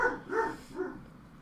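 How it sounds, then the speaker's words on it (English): A dog barks in the background: three quick, moderately faint barks in a loose rhythm, then a low room hum. "Sorry about the dog barking in the background."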